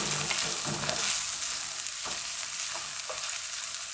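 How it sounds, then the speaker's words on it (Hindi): Tomatoes hitting a pan of frying chickpea curry, a loud steady sizzle with a few spoon scrapes and stirring knocks, close and alone with no talk. "अब टमाटर यहाँ पे ऐड कर देंगे।"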